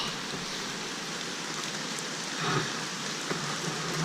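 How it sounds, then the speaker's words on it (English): Torrential rain pounding down at a soggy wild campsite, a dense continuous hiss of drops striking close by, with a slight surge in intensity midway and no one talking. "the rain is absolutely torrential"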